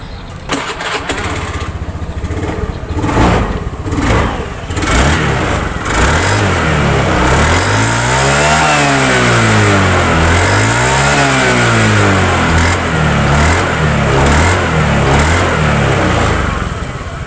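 A motorcycle engine being checked after a fix for sputtering under throttle starts up and idles, then is revved repeatedly with rising and falling pitch sweeps, loud and close with no talking.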